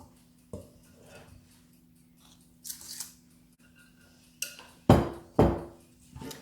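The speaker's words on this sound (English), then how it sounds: "we'll put the almond mixture in each muffin case" A spoon scrapes and clinks as almond mixture is dropped into muffin cases on a baking tray for cherry almond buns: scattered soft taps, then a few sharper metallic knocks near the end, with no talking.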